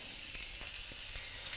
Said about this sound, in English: I hope you can hear that hissing and sizzling away